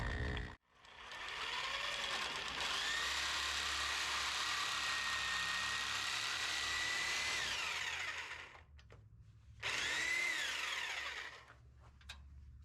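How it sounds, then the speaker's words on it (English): Sawzall fitted with a 9-inch blade cutting through a steel crossmember on an LS-swapped S10, loud sustained buzzing with a rhythmic stroke, stopping, then a second short burst. "What I'm gonna attempt to cut this with is just a Sawzall with a 9-inch blade."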